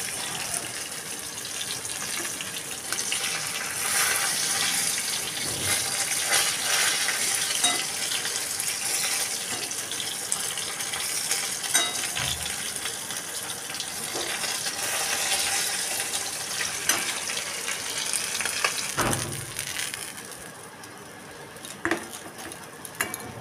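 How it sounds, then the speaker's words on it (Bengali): A steady, loud sizzle of fish frying in hot oil goes on throughout, with occasional clanks of a pan and utensil and no voices. "বাকি মাছগুলো আবারও একইভাবে ভেজে নেব"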